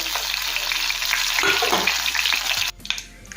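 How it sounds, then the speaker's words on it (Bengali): Pieces of rohu fish fry in hot oil, a loud, dense, crackling sizzle close up that runs steadily and then drops abruptly to a quieter spatter near the end. "ঠিক মিডিয়াম করে মাছগুলো ভেজে নেবো"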